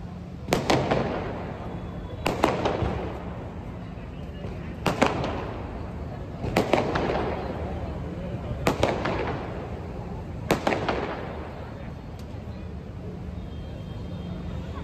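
Festival firecrackers burst with sharp, loud reports roughly every two seconds, about six in a row, each followed by a crackling tail over a steady crowd and ambient rumble.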